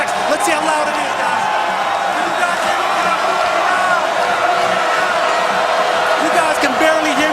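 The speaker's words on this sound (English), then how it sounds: "That's how loud a crowd is up here." Dense, roaring football stadium crowd at Oregon's home game against Washington State, loud and continuous throughout with whoops and cheers rising out of the wash of noise.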